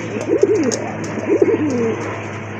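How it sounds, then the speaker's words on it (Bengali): Bombay pigeons, a native Bombay breed kept on a pigeon farm, coo close by in two rolling, throaty phrases, one after the other, with no talk. "এটা হচ্ছে বোম্বাই কবুতর, অরিজিনালি দেশি বোম্বাই কবুতর।"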